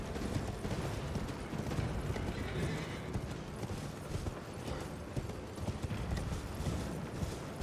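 Rapid hoofbeats of galloping horses in the video game Elden Ring, with an occasional whinny, steady and fairly loud against a dense rumbling background, with no talking.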